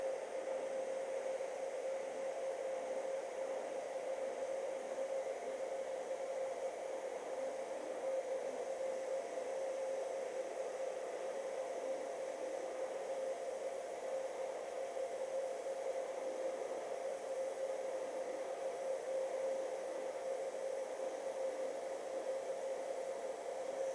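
A heat gun or hair dryer warms a kydex holster to soften and stretch it, producing a steady airy hiss with a constant low hum, continuous and fairly quiet with no talking.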